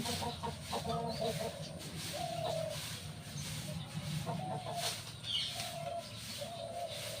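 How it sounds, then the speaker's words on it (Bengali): Several fighting roosters clucking and murmuring nearby in short bursts, with soft outdoor background noise and no talking. "এই মোরগগুলোকে রেখেছি লড়াই করবার জন্য।"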